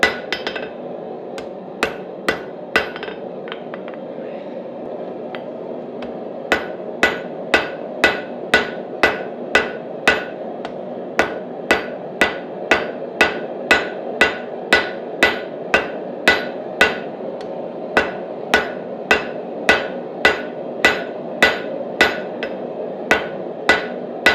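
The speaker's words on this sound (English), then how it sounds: "I'm drawing this out on the face of the anvil, even though it's a less aggressive way of doing it" A hammer draws out steel stock on the face of an anvil while forging, with dozens of sharp ringing blows at a steady rhythm of about two per second over a constant low background roar. The strikes are close and loud.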